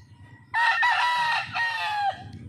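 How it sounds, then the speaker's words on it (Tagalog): A loud, close rooster crow rings out in one long drawn call with a break partway, over faint clucking underneath. "marami po kaming manok, chicken"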